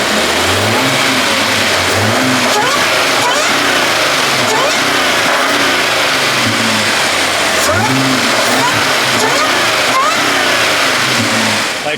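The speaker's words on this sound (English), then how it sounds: "it takes away from the beautiful sound of a supercharger, and I'm a sucker for superchargers" Supercharged engine of a 2014 Audi A6 Premium Plus revving repeatedly, loud and close, with a steady supercharger whine over rising and falling engine pitch across several throttle blips, no talking.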